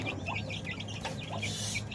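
Hungry chickens cluck in short, repeated bursts close by while being given feed, with a rooster-like call among them.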